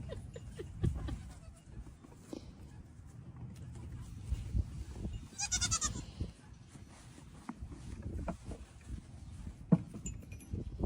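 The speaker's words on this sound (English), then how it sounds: "Merciless goat attack." A farm goat bleats in a short, wavering burst midway through, over a background of scuffling, thumps and small clinks from the attack.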